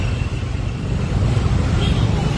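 Steady roar of city street traffic in Sylhet, a dense broadband rumble of cars and motorbikes heard close, continuous and loud throughout the short stretch.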